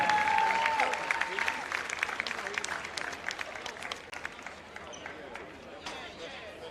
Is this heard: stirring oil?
no